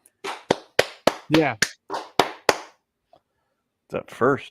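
A person claps their hands nearby, roughly nine sharp, close claps in a quick, fairly even rhythm. Brief speech follows after a short pause.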